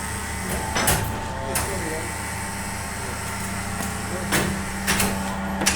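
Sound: homemade hydraulic machine doing four jobs with one motor

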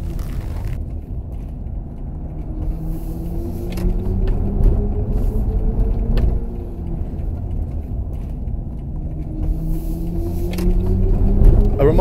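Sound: BMW iX synthetic electric driving sound composed by Hans Zimmer

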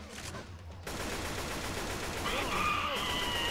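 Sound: gunfire in the video game Left 4 Dead 2

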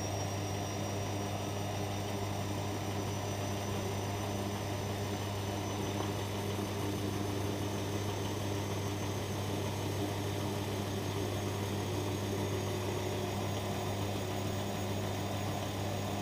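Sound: Bosch Maxx Easycare washing machine spinning at 400 RPM

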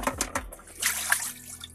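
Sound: pouring excess water from a bucket down the drain

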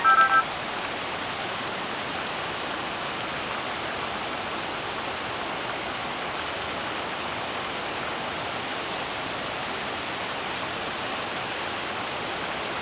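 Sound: heavy rain

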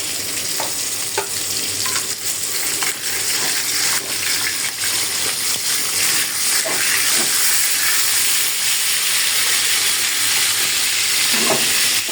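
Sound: bottle gourd stir-frying in pan

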